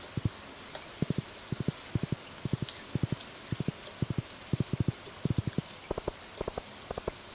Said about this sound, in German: kein Wunder bei dem Regen